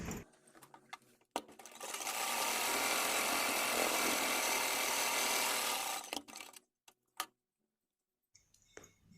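Sewing machine stitching a strip of fabric for a baby frock, a steady continuous whir running about four seconds at close range, with a few faint handling knocks before and after and no talk.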